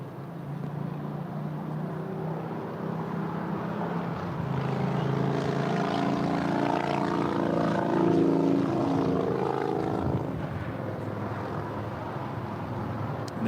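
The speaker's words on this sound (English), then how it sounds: "It's a big Q, Qatar Airways, A350-1000 about to touch down there on 24 right." A Qatar Airways A350-1000 touching down on runway 24 right at LAX, its jet engine roar building gradually to a peak near the end, loud and sustained with a rising whine.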